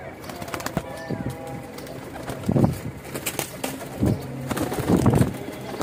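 Pigeons coo nearby in repeated soft, throaty bursts, several calls overlapping against a light background of rustling and faint chatter.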